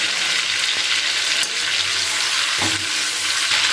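Prawns fry in hot oil in a kadai for an echor chingri dish, a loud continuous sizzle with stirring scrapes and clinks breaking in a few times.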